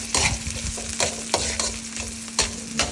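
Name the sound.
stirring and mixing food in a pan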